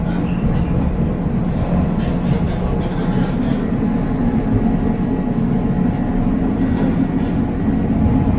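A train rides through a curve while slowing down significantly, heard from inside as a steady, loud rumble and rolling rail noise throughout.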